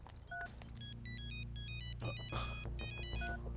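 A phone rings in repeated electronic ringtone bursts while an outgoing call connects, the tones clear over a steady low hum with no talk.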